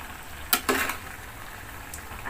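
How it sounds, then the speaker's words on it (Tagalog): Chopped cabbage tossed and stirred into a pan of frying chopsuey guisado, a couple of quick scraping, sizzling bursts over a faint steady background hiss. "Lagay natin ang ating repolyo. At saka, haluin"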